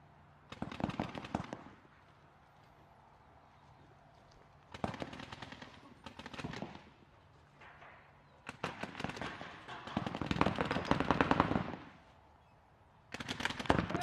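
Bursts of rapid gunfire from a video game match on a temple map, several separate volleys of automatic shots with quiet gaps between them, fairly close and loud.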